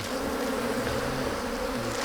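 Wild bees swarm and buzz at a ground nest in the forest, a steady, close, continuous drone that runs unbroken throughout with no voices.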